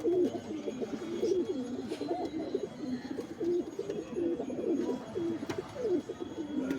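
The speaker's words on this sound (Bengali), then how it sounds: "এটা কালো মাদা পায়রা আপনাদেরকে শখ করাচ্ছি।" Madras and Malwai pigeons coo in soft, repeated throaty rolls, several birds overlapping close by at a low, steady level with no talking.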